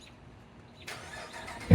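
A Ram Rebel truck fitted with a Stainless Works exhaust starts up: a soft crank and then a sudden loud, deep catch at the very end as the engine fires, close by.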